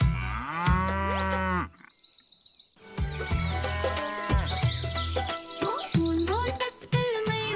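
A white cow moos in a children's nursery rhyme, giving long, drawn-out calls set against music, with short bird chirps in a brief quieter gap.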